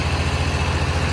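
A Mahindra Arjun Novo 605 4WD tractor engine labours while pulling a stuck old Swaraj 735 FE with trolley, a loud, steady low diesel throb with a rapid pulsing rhythm and no talk.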